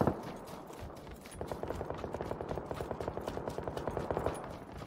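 Distant gunfire from a battle royale video game fight, rapid bursts of shots crackling in a steady, uneven rhythm that keeps going throughout, with no talking over it.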